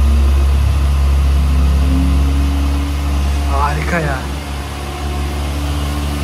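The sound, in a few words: Kawasaki ZX-6R motorcycle engine idling after first start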